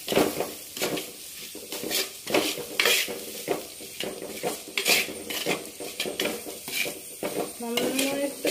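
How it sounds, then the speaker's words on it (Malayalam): Prawn masala for a Kerala-style prawn roast sautéed in oil with salt, a metal spoon scraping and clinking against the pan in an irregular rhythm over a soft sizzle, close and moderately loud, with a brief voice near the end. "ഉപ്പും ഇട്ടിട്ട് നന്നായിട്ടൊന്ന് വഴറ്റിയെടുക്കണം."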